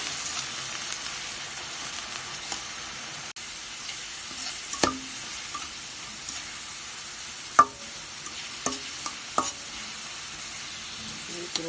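Onion and garlic paste fries in oil in a pan, a continuous close hiss and sizzle broken by occasional sharp scrapes and taps of a stirring utensil; no one speaks.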